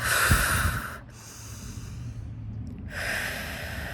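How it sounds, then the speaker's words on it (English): A person draws a deep, close breath: a loud, airy inhale through the nose, a brief pause, then a long exhale, with no talking. "Let me take a deep breath."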